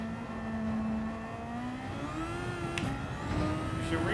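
A car engine in Gran Turismo 7 revs steadily upward under throttle, its pitch climbing through a gear change and continuing to build with no talk over it.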